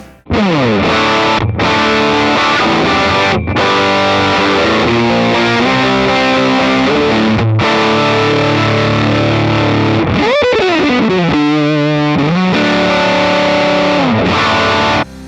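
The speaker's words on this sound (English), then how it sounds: "out of output 1, we should have the AC20 Deluxe on the left and the 2x12 double verb mix on the right" Electric guitar running through an Axe-Fx II into AC20 Deluxe and 2x12 double verb cab simulations plays loud, distorted chords and riffs, with slides and brief pauses, for about fifteen seconds and no one talking.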